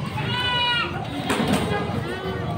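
Several Boer goats bleat in wavering calls, partly under a person talking close by.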